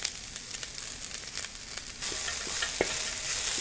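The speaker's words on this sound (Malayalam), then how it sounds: "ഇപ്പോൾ ഈ വെജിറ്റബിളൊക്കെ ഒരു 5 മിനിറ്റ് ഫ്രൈ ആയിട്ട് വന്നിട്ടുണ്ട്." Vegetables sizzling in a pan with sauce for American chopsuey, a steady frying hiss that jumps louder partway through, with occasional soft stirring clicks and no talking.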